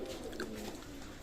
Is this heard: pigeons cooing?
yes